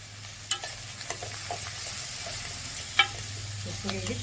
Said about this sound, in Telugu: ఇప్పుడు ఇది చక్కగా ఫ్రై అవుతూ ఉంటుంది